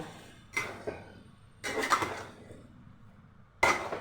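Spoon scraping and knocking in a pot of fish and stem-greens (data shak) curry, three separate bursts of clatter at a moderate distance with quiet pauses between them.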